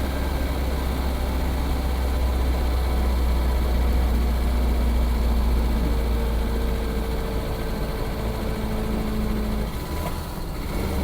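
A BMW 325 engine labours up a hill in fourth gear at about 30 mph, giving a steady, loud low drone that holds unbroken throughout with no voices.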